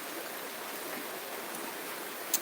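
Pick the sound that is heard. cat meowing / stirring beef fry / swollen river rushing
swollen river rushing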